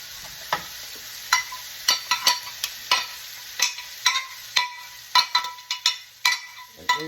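Onions frying in butter in a pan for smothered shrimp keep up a steady close sizzle, broken by frequent sharp pops and spatula scrapes that get busier toward the end.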